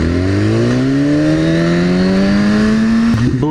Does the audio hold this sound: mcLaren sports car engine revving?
yes